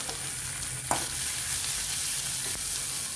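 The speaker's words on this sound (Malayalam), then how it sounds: "വെളിച്ചെണ്ണ ഒഴിച്ചു കടുക് വറ്റൽമുളക് ഇട്ടു" Mustard seeds, dried red chillies and coconut fry in hot coconut oil, producing a loud, steady sizzle with a couple of sharp stir clatters and no voices.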